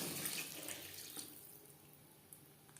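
Water pours into a pan of tangra fish curry with eggplant, a faint, steady splashing wash that tapers off over a few seconds.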